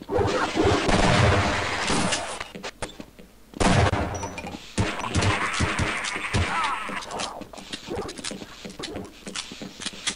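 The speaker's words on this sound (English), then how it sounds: "Stop shooting me! You're supposed to help me, not kill me." Gunfire from a Half-Life office-complex level: rapid bursts of shots and crashes fill most of the stretch, loud and dense, with a brief pause before the shooting resumes, and faint voice fragments mixed in.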